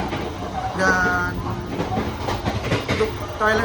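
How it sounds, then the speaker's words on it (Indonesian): Steady rumbling rattle from the coupling between carriages of the Bengawan economy-class train running Jakarta to Yogyakarta, continuous and fairly loud, with a person talking over it. "bising karena suara dari sambungan."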